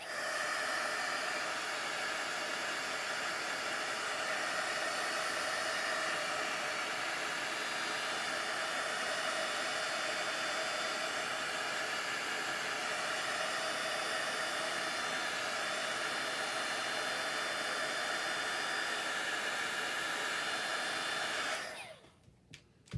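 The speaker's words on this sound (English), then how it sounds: "I'm going to hit that one more time with the heat gun, so pardon me for 15 seconds" A heat gun blows hot air over a textured art base in a steady, even roar that runs unbroken for about twenty seconds, then cuts off abruptly near the end.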